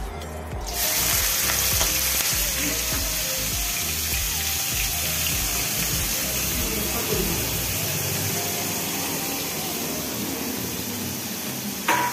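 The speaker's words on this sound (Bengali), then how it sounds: "সর্ষের তেলটা দিয়ে দেবো। তো এই যে পেঁয়াজগুলো দেখছেন, পেঁয়াজগুলোর মধ্যে দিয়ে দেবো।" Onions frying in hot mustard oil for a home-cooked chicken dish, a loud, steady broadband sizzle crackling throughout, with low clattering and bumps from stirring beneath it and a brief voice near the start.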